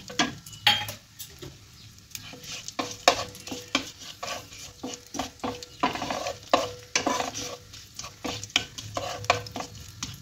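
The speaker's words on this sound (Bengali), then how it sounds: "ঘিটাকে গলিয়ে নেব, দিয়ে তাতে একটা তেজপাতা আর গোটা গরম মশলা আমি এর মধ্যে দিয়ে দেব, দিয়ে এটাকে ভালোভাবে এতে একটু ফ্রাই করে নেব" A bay leaf and whole garam masala fry in melted ghee while a utensil stirs the pan. The scrapes and clicks are irregular, over a soft, continuous sizzle, close up with no talking.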